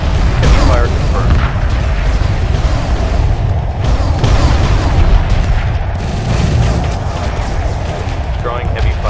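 Heavy weapons fire in a Homeworld 2 Remastered space battle: a dense, continuous rumble of booms and bursts layered with mechanical drones and radio chatter, loud throughout.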